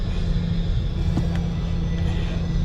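Scania P410 XT truck engine idling while the vehicle stands still, a steady low rumbling drone, close and continuous, with a faint clink partway through.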